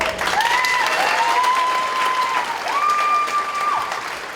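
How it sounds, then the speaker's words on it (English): Steady, full applause from a seated audience at a 2022 senior honors ceremony carries on throughout as names are read, with a voice speaking faintly over it. "If we could hold our applause until the end, that would be much better."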